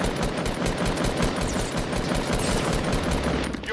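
Rapid automatic gunfire in Fortnite, fired through walls, rattles on loudly and continuously in dense bursts for several seconds with no talk.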